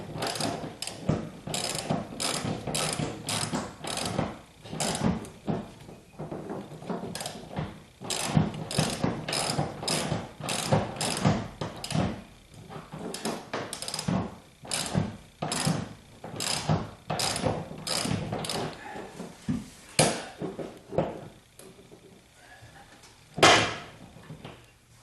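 A ratchet tightens a bolt while rear wheel well carpet goes into a 1976 Corvette restomod, giving close, crisp clicking in repeated bursts with short pauses and no talking.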